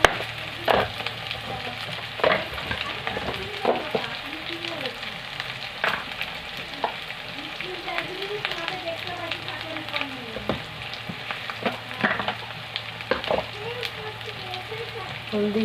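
Mutton kosha frying with chilli powder in a pan, a continuous close sizzle broken by repeated scraping and knocking of a stirring spoon, with faint voices now and then.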